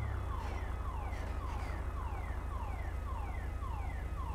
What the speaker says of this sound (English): I hear a car alarm going off.